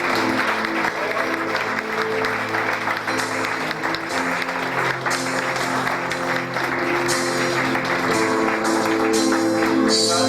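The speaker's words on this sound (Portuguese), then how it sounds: "Você pode aplaudir o Senhor Jesus?" Church congregation applauding at a prophetic activation conference in Chapecó, a steady, loud wash of clapping filling the room for ten seconds, with sustained musical tones and some voices underneath.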